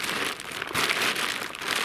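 A plastic tarp for a hammock is folded, giving off a continuous close crinkling rustle with soft surges.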